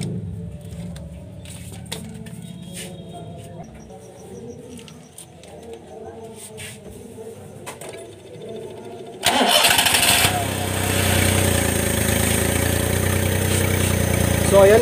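A carbureted Suzuki F6A car engine cold-starts after a quiet stretch with birds cooing nearby, catching abruptly and settling into a loud, steady idle close by.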